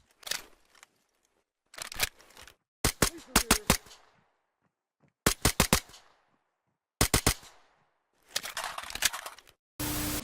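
A pepperball launcher fires in the tactical shooter game Ready or Not: several separate bursts of sharp, snappy shots, each a quick rapid string of cracks with short silences between, loud and close with no talk.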